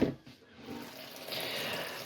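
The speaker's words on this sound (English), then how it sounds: "I'm going to submerge these in some water." Water runs from a tap into a bowl to cover fruit, a steady hiss and splash that swells after a brief burst at the start and continues evenly, close by and moderately loud.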